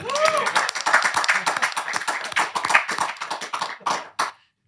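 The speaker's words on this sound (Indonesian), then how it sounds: "Tepuk tangan buat Ucok Baba" A studio audience claps for Ucok Baba, billed as the smallest man, on an Indonesian variety show, producing dense, loud clapping that rises and falls in bursts, with voices mixed in, before stopping abruptly.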